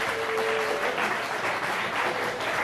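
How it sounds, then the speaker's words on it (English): Audience applause at an evening speed-friending event, a dense, continuous wash of clapping from a crowd that holds steady and fairly loud for the whole stretch. "Let us begin with a round of applause for all of you coming out here tonight."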